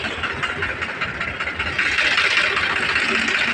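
A 2001 three-star 855 tractor engine runs at a tractor market, a steady close mechanical rumble with a rhythmic chug that grows slightly louder and rougher midway.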